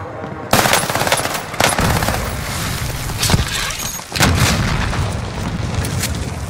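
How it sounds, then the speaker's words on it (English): Gunfire in a video game on the Caldera map: loud, rapid automatic bursts and sharp shots rattle almost continuously, with heavier booming hits mixed in and a voice faintly underneath. "They're shooting at me"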